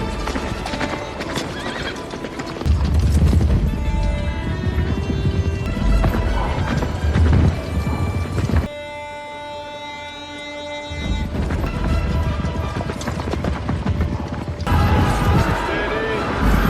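Cavalry horses galloping into battle, with dense rhythmic hoofbeats, loud whinnies and crashing clamour mixed with music and dramatic sound effects, briefly thinning to a sustained tonal passage midway before the charge resumes.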